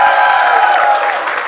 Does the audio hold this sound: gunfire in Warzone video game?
no